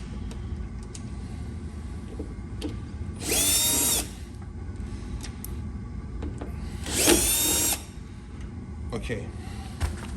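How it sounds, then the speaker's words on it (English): Power drill backing out a door handle screw on a Mitsubishi Galant VR4: two loud whirring bursts of about a second each, separated by a pause, over steady background hum. "I just gonna open it with the drill."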